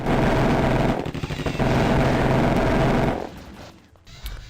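Machine gun fire in the 1996 DOS game SkyNet rattles in a dense, loud continuous burst for about three seconds, then cuts off and fades to a low tail.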